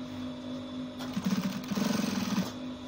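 A sewing machine stitches around a shirt's notch collar in two close bursts of rapid, even needle rattling over a steady motor hum, the second burst longer than the first.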